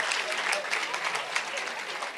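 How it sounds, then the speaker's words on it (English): A seated audience breaks into a warm round of applause for the facilitator of a book launch panel, dense steady clapping that fills the hall at an even level throughout. "if you could also please give a warm round of applause to our facilitator,"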